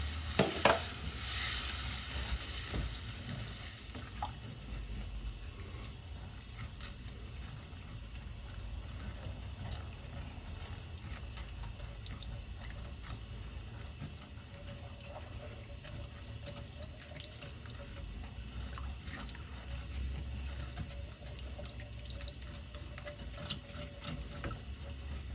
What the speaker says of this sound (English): I'm using a whisk here because I just don't want lumps in my flour